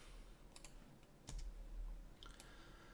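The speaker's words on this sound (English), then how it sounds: "Q on the keyboard, go to face, delete and delete." A few faint, sparse computer keyboard key presses click over a steady low hum while someone works through furniture modeling in Maya.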